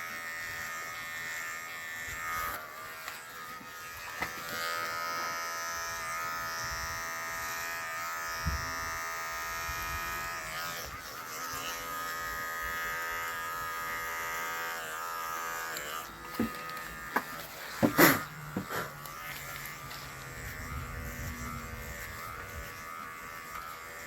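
Electric hair clippers buzz steadily and close up while trimming the back of a head, a continuous whine with brief scraping bumps as the blades move through hair, with no talking.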